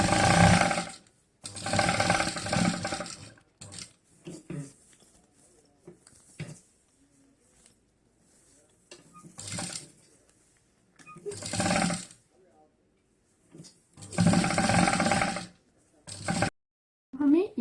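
A sewing machine stitching a folded piping border in several bursts of fast whirring, with quiet gaps of handling between runs.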